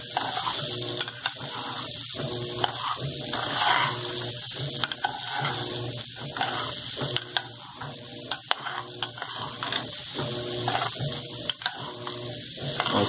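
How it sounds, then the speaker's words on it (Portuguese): A washing machine churns in a repeating rhythmic cycle, mechanical clunks and swishes recurring every second or so under a steady hiss. "Esse barulho de fundo aí todo mundo sabe, né? Isso é da máquina de lavar roupa."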